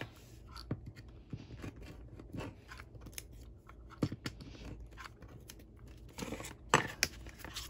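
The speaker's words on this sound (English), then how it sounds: "I'm using my rotary cutter and just cutting off those edges" A rotary cutter rolls along the edges of chipboard album pages, giving a run of scratchy, crunchy cutting strokes close up with a few sharper clicks, and no one talks.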